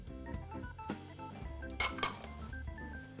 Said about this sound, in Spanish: Vamos a picar cilantro